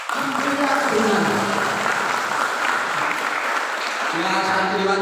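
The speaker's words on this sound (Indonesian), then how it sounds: "nah saya tepuk tangan" An audience at a book discussion event breaks into sustained, loud, dense clapping for the whole stretch while a voice talks over it.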